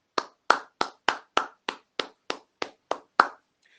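Eleven sharp, evenly spaced hand claps ring out one after another, close and clear, at a church service. No voices are heard, and the rhythm stops after about three seconds.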